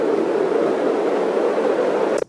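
Steady white noise ramp used as a tension-building effect, a loud continuous hiss that holds level then cuts off sharply at the end.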